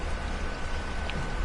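Steady rain falls through a dark nighttime scene in Resident Evil 4, a soft, even hiss that continues without a break at a low level.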